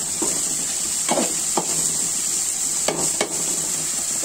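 Chickpeas frying in a pan for a healthy chola bhaji, giving a steady close sizzling hiss with several short scraping stirs of a spatula scattered through it.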